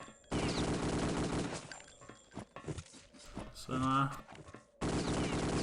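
Rapid automatic gunfire crackles in bursts during a Return to Castle Wolfenstein match, loud and close, starting and stopping abruptly with scattered single shots between, under brief commentator talk.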